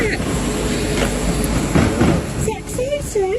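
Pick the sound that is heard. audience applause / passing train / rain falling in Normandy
passing train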